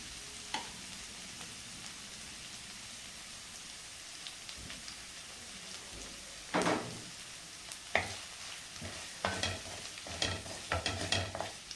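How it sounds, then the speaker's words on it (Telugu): Eggs frying with masala in a pan on the stove, a faint crackling sizzle with occasional soft knocks and a burst of spatula stirring and scraping toward the end. "బాగా ఫ్రై చేద్దాం, మసాలా అంతా దీనికి తగులుకోవాలా గుడ్డుకి"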